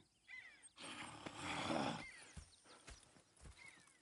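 Horses in the video game Red Dead Redemption 2: a loud neigh and snort in the middle, then scattered hoof clops and soft thuds, fairly close and without speech.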